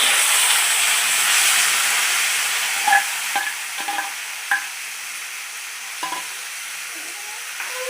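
Amaranth leaves hit a hot oil tempering and set off a broad hissing sizzle that gradually softens, broken by scattered scrapes and clicks of stirring in the pan.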